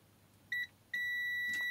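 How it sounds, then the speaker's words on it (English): Multimeter in continuity mode testing the fuses of a Mahle X35 e-bike battery pack gives a brief high beep, a short pause, then a steady sustained tone, close and clear over faint room hiss. "So my meter in continuity mode."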